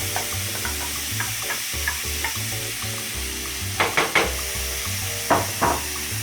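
Onion and garlic frying in a pan give a steady close sizzle under a low musical bed, broken by a few sharper clinks and bursts of crackle as the aromatics are stirred.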